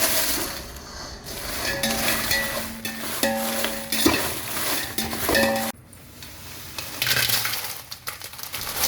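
Dry red chillies roasting in a pan on low heat, with a light sizzle under repeated scraping and stirring, small clinks and metallic knocks, and a short quieter stretch near the end.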